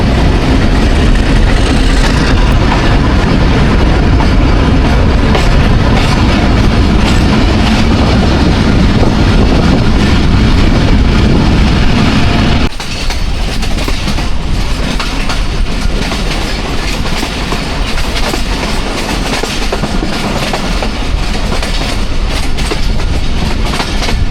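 Thall Express passenger train departing a station and running on the line, heard from onboard as loud continuous rumbling with rhythmic clickety-clack of wheels over rail joints, the tone shifting about halfway through; no talk.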